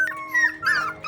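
A puppy of about one month whimpers and whines in short, high, wavering cries, close by and fairly loud with no one speaking.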